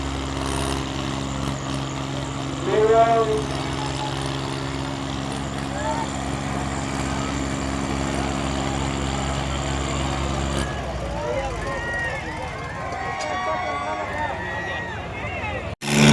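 A tractor engine, a Sonalika or John Deere at a tug-of-war contest in Punasa, drones in a steady low hum with a brief louder surge, then the tone shifts as the load changes. People talk throughout against crowd noise.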